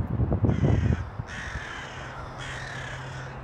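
Crows caw repeatedly in a cemetery in Metairie, New Orleans: loud, harsh calls come in bursts near and around the listener, with low rustling and handling noise underneath at the start.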